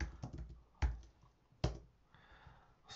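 A few soft keystrokes and sharper clicks on a computer keyboard while typing a chmod command, sparse and close with quiet gaps between presses.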